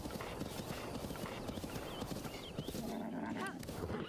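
Horse hooves clip-clop in a steady, rhythmic gait in Zelda: Breath of the Wild, with a short whinny and ambient game sounds mixed in; a faint voice talks underneath.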